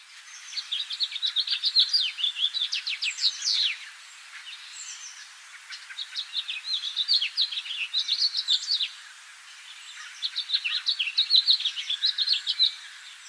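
A backyard songbird sings in spring, three bursts of a jumbled series of bright, twittering whistles separated by short pauses, clear and fairly close with no talk.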